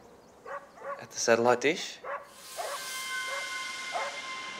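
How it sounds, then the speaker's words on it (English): Many dogs barking outdoors in a cartoon scene, yips and bow-wows scattered over several seconds, partly under talk and a rising whoosh, moderately loud. "Dogs. Heaps of them. They're all barking."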